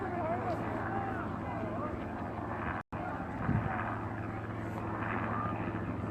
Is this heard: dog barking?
no